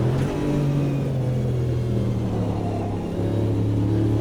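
A Corvette GTP race car drones steadily at high speed on the Daytona banking in Automobilista 2, a loud continuous engine hum with a slight pitch dip partway through.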